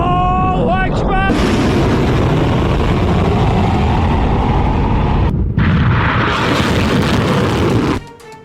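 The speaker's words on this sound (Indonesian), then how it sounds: "Rentetan rudal yang diluncurkan Teheran memicu ledakan di berbagai titik di Tel Aviv" Iranian missiles launched from Tehran exploding at several points across Tel Aviv: a loud, continuous roaring rumble lasting about eight seconds, opening with a brief wailing tone and cutting off sharply near the end.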